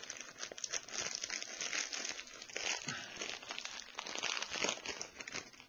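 A small plastic bag of prosecco and raspberry marshmallows crinkling close up, a continuous soft rustling and crackling as it is handled.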